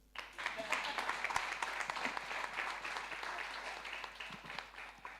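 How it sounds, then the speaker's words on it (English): Audience applause at a university practitioners' lecture series after a visiting ambassador is honored; steady, moderately faint clapping from a room of people that starts abruptly and tapers slightly, with some voices mixed in. "You can clap, why not?"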